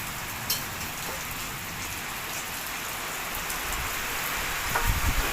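Steady rain falls around a home, a continuous hiss of drops on surfaces at moderate level with a few sharper drips standing out, and no voices.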